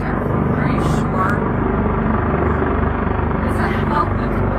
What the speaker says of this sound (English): Helicopter's coming back.